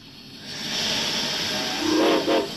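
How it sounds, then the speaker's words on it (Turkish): A steam train in a video game vents a loud, steady hiss of steam that swells after the opening moments, with brief whistle-like tones near the end. No one speaks. "Tren herhalde diyelim. Evet o tren de herhalde."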